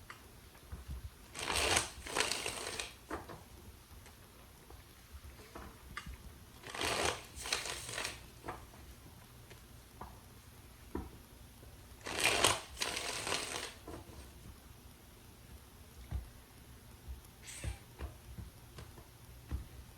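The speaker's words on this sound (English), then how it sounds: "3 more shuffles." Tarot cards are shuffled in four quiet, separate bursts of quick papery riffling a few seconds apart, with near silence in between.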